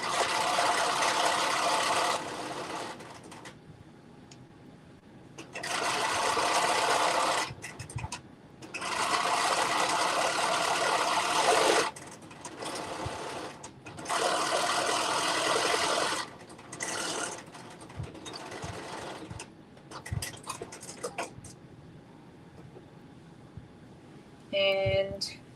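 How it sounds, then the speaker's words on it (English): A sewing machine double stitches a curved seam allowance on a Butterick jumpsuit, running in several bursts of rapid whirring stitches separated by quiet pauses for repositioning, close and moderately loud. "now I'm just going to do that little double stitch right at the curve in the seam allowance."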